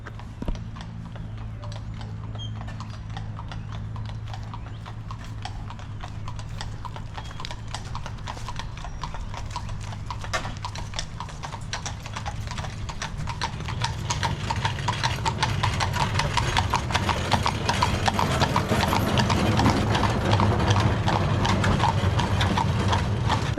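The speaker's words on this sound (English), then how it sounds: "we're greeted by a team and horses" A team of horses clip-clops past on a street in a restored colonial town, hooves and rattling carriage gear growing louder and closer over a steady outdoor background.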